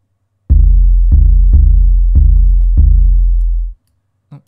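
An 808 kick drum with an exaggerated EQ boost on its resonant frequency thumps five times in an uneven pattern, each deep, booming hit ringing into the next before cutting off, loud and alone.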